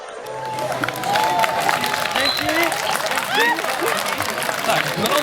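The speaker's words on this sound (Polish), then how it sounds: "Gorące brawa dla chóru Polubkowiczów" A crowd applauds and cheers for a choir at a contest, lively clapping mixed with whoops, whistles and chatter from the audience.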